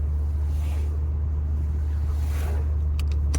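A Volvo V70 climbing a steep mountain road above Boulder, Colorado: steady loud low engine drone and road rumble with wind and tyre hiss, continuous throughout, with a few faint clicks near the end.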